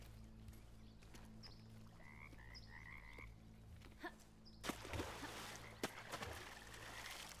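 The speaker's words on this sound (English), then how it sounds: "It's a king frog." A giant king frog in the video game Bramble: The Mountain King croaks in a few short bursts at low volume, over a steady background hum, with louder thumps and splashes afterward.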